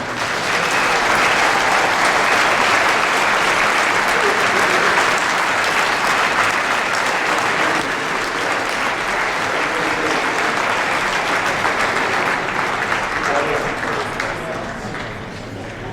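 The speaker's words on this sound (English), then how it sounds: "Ladies and gentlemen, put a big round of applause together" A large crowd at the Cincinnati Freedom Expo applauds loudly and steadily, sustained clapping with some cheering that slowly eases toward the end.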